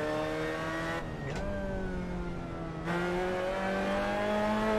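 Mazda race car engine in the Assetto Corsa racing sim, a steady loud drone with a clear harmonic whine that drops on a gear change then climbs again as it accelerates, no voices.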